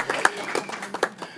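A small group at a school board meeting claps briefly and sparsely, a few scattered, uneven claps over about a second and a half, moderately quiet.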